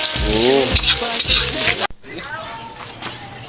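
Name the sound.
sautéing spices and aromatics in a pan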